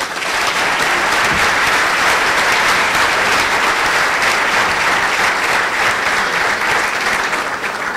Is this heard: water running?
no